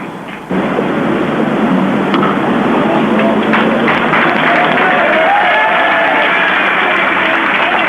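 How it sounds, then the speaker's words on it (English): Broad, sustained applause rolls from a distant cricket crowd at a South Africa vs Zimbabwe World Cup match, a steady wash of clapping that starts abruptly and holds, with a voice faintly underneath. "Appreciative applause from the South African section of the crowd away to our left"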